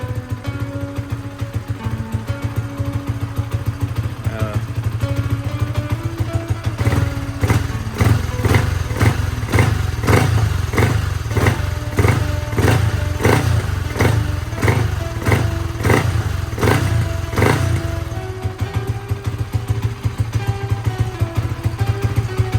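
A motorcycle engine fitted with an aftermarket superhead runs steadily up close, its rhythmic throb briefly rising as the throttle is revved, then settling back to idle.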